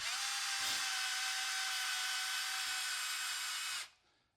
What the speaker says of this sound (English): you put your drill in reverse and simply lower it